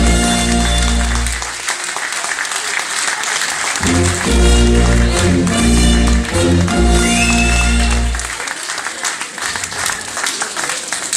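Applause for youth prince Tristan at a carnival youth prince proclamation and farewell held by V.V. De Uule Awt-Gelaen, a loud sustained crowd clapping that rises with booming band music through the middle, then thins again.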